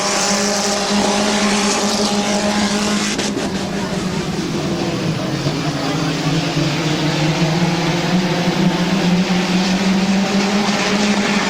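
Compact division race cars racing at Midvale Speedway, with a loud continuous roar of several engines, their pitch shifting as cars bunch and pass.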